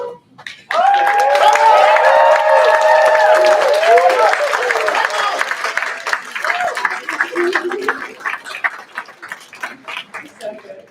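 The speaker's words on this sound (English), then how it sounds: "Can you give us a really loud yell, cheer, whatever, for your support system?" Students at a BCTC graduation ceremony yell and cheer loudly for their support system, a sudden burst of whoops and voices that gradually thins into scattered claps and shouts.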